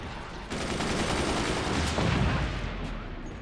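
Weapons fire from an enemy bot in the fort-battle game Forts, a sudden burst of rapid booming shots starting after a brief pause and rolling on as a sustained barrage, loud and close, with no talking.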